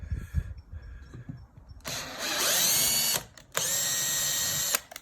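A power tool drives a tap through 4 mm threaded holes in metal, giving two sustained, loud, high-pitched whirring bursts after a few softer mechanical clicks and knocks.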